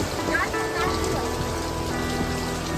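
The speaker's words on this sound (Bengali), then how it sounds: "বোলপুর ঢোকার আগে হঠাৎ করে বৃষ্টি শুরু হয়ে গেল।" Rain falls steadily on a rural area near Bolpur, a constant dense patter on surfaces at even loudness, with faint tonal hum and distant sounds mixed in.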